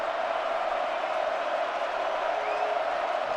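A large stadium crowd at the Rose Bowl college football game between Michigan and Alabama roars steadily as the Michigan defense fires up the fans, a dense sustained wash of cheering without breaks.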